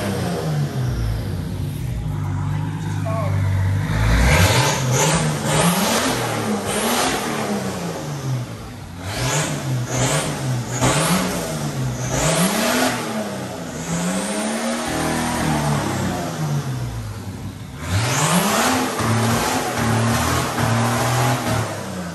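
A Tuff Truck competition car's engine revs repeatedly in rising and falling bursts, close and loud, with an uneven, stumbling note from a misfire running through the whole stretch.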